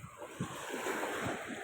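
Sea waves wash at Dwarka, a soft continuous surf rush with gentle swells, mixed with wind buffeting the microphone and heard at a moderate distance without talk.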